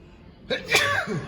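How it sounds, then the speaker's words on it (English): A single close, loud sneeze bursts out abruptly, preceded by a short inhaled catch of breath. "Got a sneeze coming on here"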